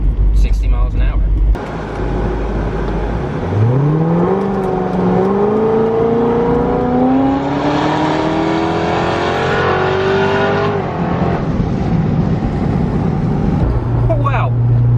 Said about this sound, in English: I totally forgot how quick this car will get up to about 110.